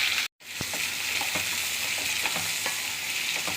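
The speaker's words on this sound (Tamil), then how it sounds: "நல்ல ப்ரௌன் கலர் ஆகிற வரை நல்லா வதக்கணும்." Onions and whole spices such as cloves, cardamom and bay leaf sauté in a pan with a dense, bright sizzle. After a brief dropout it continues steadily, broken by faint ticks of stirring, and no one speaks.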